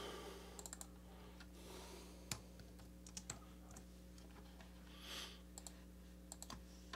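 Keys on a computer keyboard tap out scattered, uneven clicks in short bursts, quiet and close over a steady low electrical hum.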